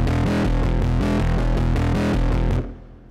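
A plugin synth reamped through guitar pedals, tape echo and outboard gear plays a loud, distorted, rhythmic riff of repeating chord stabs that stops abruptly near the end, leaving a brief decaying tail.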